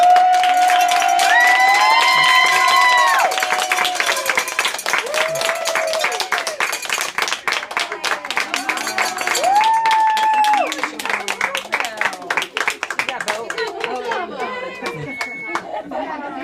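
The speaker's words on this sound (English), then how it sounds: "round of applause" A crowd claps and cheers to celebrate a patient's final chemotherapy treatment, loud, close, sustained applause with whoops and shouts throughout, and a voice speaking over it.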